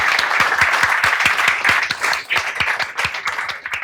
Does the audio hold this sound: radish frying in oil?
no